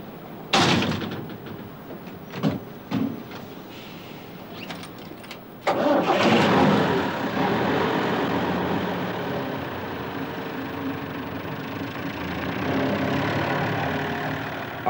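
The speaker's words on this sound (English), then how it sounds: "About 7 o'clock, all the lorries are leaving." A 1970s bin lorry in Belfast starts up after a few thuds and clicks, its engine catching loudly and settling into a steady, rumbling idle that continues close by.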